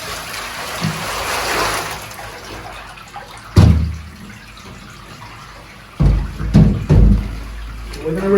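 Water gushes and splashes out through the vents of a glass reptile enclosure being flushed during cleaning, a broad rushing pour early on, followed by a few sharp knocks and thuds as the tank is handled.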